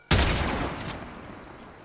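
A single loud gunshot in Warframe fired with the Primed Chamber mod cracks sharply, then its heavy boom decays over more than a second of rumbling tail, with no other sound around it.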